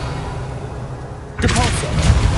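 Revelio spell cast in Hogwarts Legacy: a sudden shimmering whoosh swells in about halfway through, bright and sustained with a low rumble beneath, after a quiet ambient lead-in.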